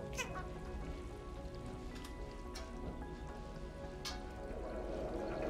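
A cat meows in the video game Stray against a steady patter of rain on a hard surface, with a few brief higher cries standing out over the wet background.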